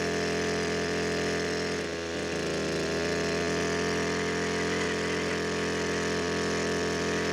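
A loud engine-powered drill drones steadily throughout while boring holes in ground for a vertical French drain, a constant mechanical hum with a brief dip in tone near the start.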